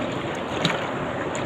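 Steady broadband rush of strong wind and choppy sea waves around a small boat during the northeast monsoon, continuous and close, with no voices.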